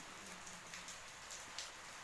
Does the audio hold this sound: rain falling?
yes